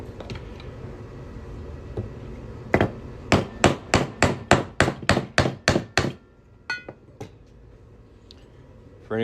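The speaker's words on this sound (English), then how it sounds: "I got a 1/2-inch punch here. I'm just gonna hammer that on through." A hammer drives a half-inch punch through a coin held for ring making, a run of about ten sharp, loud metallic strikes in steady rhythm, preceded by a few lighter taps and followed by quieter handling.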